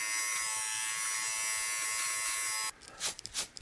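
A Wilkinson Sword Shave & Style electric beard trimmer runs with a steady high-pitched motor buzz for most of the clip, close and alone, then cuts off, leaving a few soft clicks and handling sounds.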